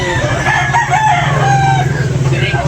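A white Kelso rooster crows loudly and close by in a single drawn-out call. Low background noise runs underneath, and there is no talking.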